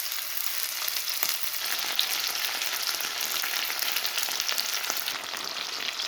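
Chicken pieces frying in hot sunflower oil in a pan, a loud, dense, steady sizzle with crackling pops throughout, close up and with no talking.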